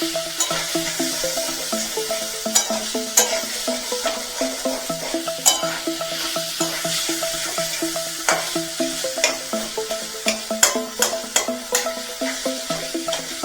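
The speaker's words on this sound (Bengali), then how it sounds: "এভাবে খুন্তি দিয়ে যদি কোনো পনিরের বড় পিস থাকে আমি এইভাবে একটুখানি ভেঙে দিলাম" A spatula breaks up and stirs paneer stuffing in a pan, with repeated sharp metal scrapes and taps over a low, continuous sizzle.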